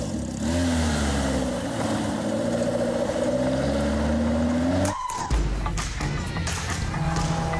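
A Caterham 275R lightweight British sports car accelerates hard, its engine note climbing through rising gear pulls before a sharp shift and a renewed surge, loud and close.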